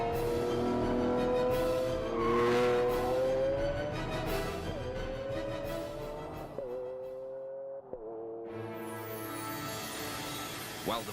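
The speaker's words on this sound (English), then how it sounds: "This 12-cylinder symphony has a full range. From a moderate rumble through the town at low revs to the screaming crescendo of" A Lamborghini Aventador's V12 engine revs in rising sweeps that climb in pitch, then drop sharply at gear shifts before climbing again, loud and sustained.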